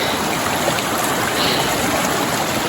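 A creek beside a Washington hiking trail on the way to Blue Lake rushes steadily and loudly nearby, a constant broadband gurgle and splash of flowing water with no voices.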